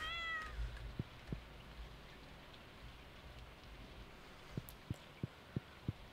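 A cat in the Stardew Valley farming game gives a brief meow at the very start, followed by soft rain and a series of light, evenly spaced thumps, all faint and with no talking.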